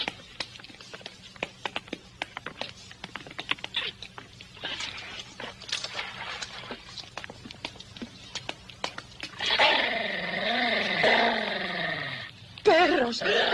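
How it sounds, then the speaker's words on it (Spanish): Scattered clicks and rustling, then a dog snarls and growls loudly up close for a few seconds, followed by a brief sharp bark. "¡Perros!"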